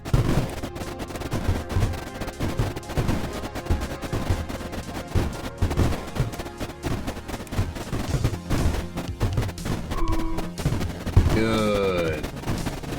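Cannons firing in the Creeper World IXE strategy game, a dense, continuous barrage of rapid shots layered over game music, with bright swooping effects near the end.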